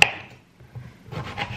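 Celery being chopped with a knife into large pieces, a sharp cut at the start followed by a few softer, quicker chopping taps close by.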